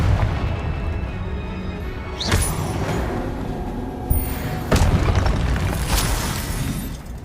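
Confringo blasting spell explosions in the Hogwarts Legacy video game on PS5, a few loud booming bursts with crackling tails over a continuous rumbling game background, no talking.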